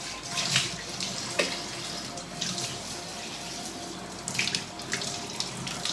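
Tap water runs into a kitchen sink in a steady splashing stream, close and moderately loud, with brief surges and clatters as things are rinsed under it.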